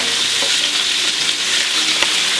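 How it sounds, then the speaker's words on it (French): Pork pieces browning in a hot pan for a carrot pork stew, a loud continuous hiss and crackle of sizzling fat with occasional sharper pops, no talk. "La viande, je vais la faire colorer."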